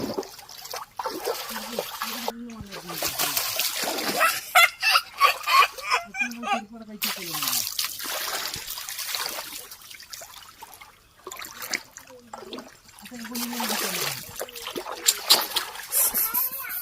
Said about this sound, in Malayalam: ഇവർ രണ്ടുപേരും ആദ്യമായിട്ടാണ് ഇങ്ങനെയുള്ള ചെറിയൊരു തോട്ടിലിറങ്ങിയിട്ട് കളിക്കുന്നത്